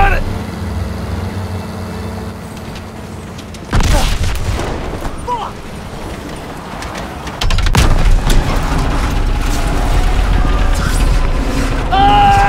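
In a World War II combat scene, a grenade blast and a jeep breaking apart come through as heavy booms and crashing metal under a constant roar of engines and gunfire, with shouted voices in the mix.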